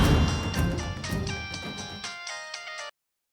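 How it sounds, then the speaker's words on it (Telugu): A phone rings in a Telugu TV serial scene, a bright, tonal ringtone melody playing loudly and close for about three seconds before cutting off abruptly into silence. "ఫోన్ లిఫ్ట్ చేయండి"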